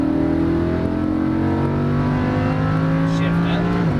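A Lamborghini Huracan engine pulls hard on a race track, a loud sustained drone with rising harmonics as it accelerates, steady throughout with a voice talking over it.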